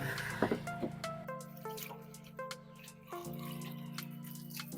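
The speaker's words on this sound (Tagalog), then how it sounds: "Hugasan muna natin bago ito ating balatan." Shrimp get rinsed under a running tap in a kitchen sink, with water splashing and dripping close by in short, uneven bursts over a steady flow.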